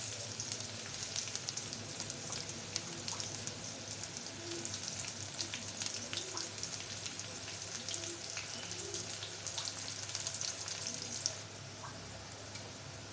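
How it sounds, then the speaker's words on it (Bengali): Onion and green chilies frying in a pan, a faint, steady crackling sizzle with light pops throughout, no talking. "বন্ধুরা পেঁয়াজ মরিচটা একটু ভেজে নিচ্ছি"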